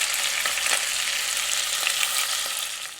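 Beef pieces searing in a mix of butter and oil for Hungarian goulash, a steady close sizzle with faint crackles running throughout, no voices.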